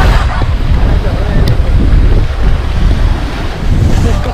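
Strong typhoon wind (Typhoon Bising) batters the microphone at Carigara, Leyte, with a loud, continuous roar over crashing waves; a person's voice is faintly audible underneath.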